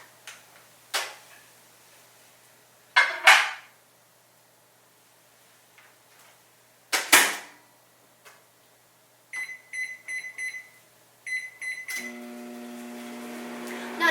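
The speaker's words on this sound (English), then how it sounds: "I'm going to stick it in the microwave for just a few seconds." A kitchen microwave melting cheese: scattered clicks and knocks from the door and handling, a few short electronic beeps from the keypad, then the low, steady hum of the oven starting to run.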